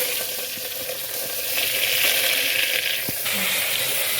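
Chopped onion, potato and tomato tipped into hot oil tempering in a home kitchen, giving a steady bright sizzle and frying hiss that swells midway, close and continuous with no talking.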